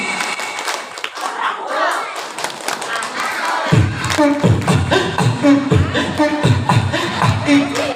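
Children at an Eid al-Adha religious gathering clap the tepuk anak solih pattern, rhythmic groups of claps and thumps mixed with chanting voices, loud and close after a quieter start.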